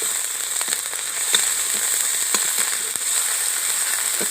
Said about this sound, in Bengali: এবার আদা রসুন বাটা দিয়ে দিচ্ছি। দিয়ে ভালো করে নেড়ে চেড়ে নেবো